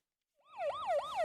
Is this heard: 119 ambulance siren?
yes